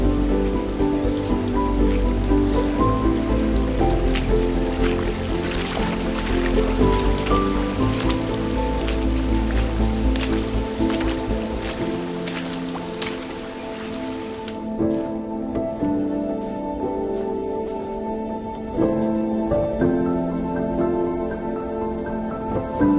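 Rain patters steadily on a forest trail in the Blue Ridge Mountains, a dense, continuous hiss of drops that eases slightly partway through, with no voices.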